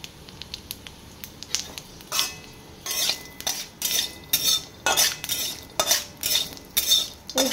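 Panch phoron spices and chillies sizzle in a home kitchen pan, with close, loud clinks and scrapes of a metal spoon stirring in an irregular rhythm.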